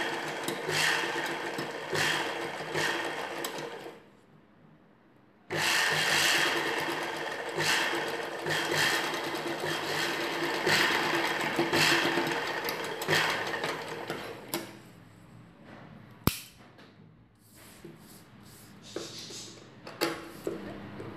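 Sewing machine stitching piping onto a blouse neck, a fast close mechanical whirring in long runs that stops briefly a few times, with short bursts and clicks near the end.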